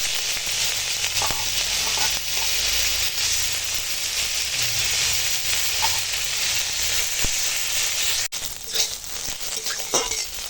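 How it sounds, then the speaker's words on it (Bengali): Oil sizzles and hisses continuously as eggplant fries, a steady loud frying crackle with faint clinks of stirring throughout. "এবার এই তেলটার মধ্যে এই ভাজাটা দিয়ে দিলাম"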